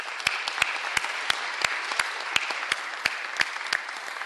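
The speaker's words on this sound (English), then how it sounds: "so I would like to give them a round of applause" Applause at a public works board meeting for employees' families, a few hands clapping in a slow, even rhythm of distinct claps over a soft wash of room noise.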